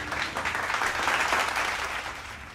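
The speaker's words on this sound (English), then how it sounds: "Round of applause." A birthday gathering breaks into a round of applause for the birthday boy, a dense, steady patter of clapping that holds for a couple of seconds before easing off slightly.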